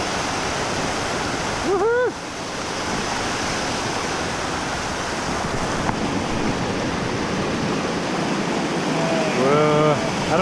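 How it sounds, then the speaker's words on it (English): Mountain stream in the North Cascades rushing over and under rocks, a loud, steady broadband hiss throughout, with brief voices cutting in near the start and the end. "find the right rocks and have the water flowing underneath"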